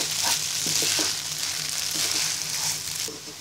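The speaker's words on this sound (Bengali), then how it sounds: "এবার ভালো করে নেড়ে নিব।" Restaurant-style Chinese noodles sizzle loudly in a hot pan, with a steady hiss broken by repeated scraping and tossing strokes as they are stirred, close and continuous with no talking.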